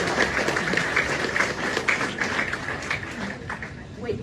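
A dense wash of audience applause fills the whole stretch at an anniversary celebration and rededication of a literary garden, steady and fairly close with a murmur of voices mixed in.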